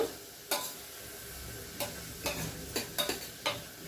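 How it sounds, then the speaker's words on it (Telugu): Onions sautéing in a pan for potato curry: a soft continuous sizzle broken by half a dozen quick, sharp stirring scrapes, close by and with no voices. "ఉల్లిపాయలు కూడా కొంచెం మగ్గనిద్దాము"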